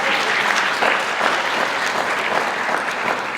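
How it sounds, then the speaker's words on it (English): Steady, dense applause from a crowd at an Indigenous student graduation ceremony, loud and continuous throughout with no pauses. "Excellent. Round of applause."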